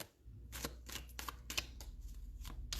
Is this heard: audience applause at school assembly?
no